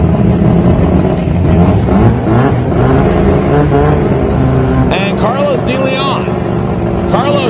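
Toyota Starlet drag racing cars idle loudly at the start line of a drag strip, a steady rumbling engine drone throughout with a commentator speaking over it.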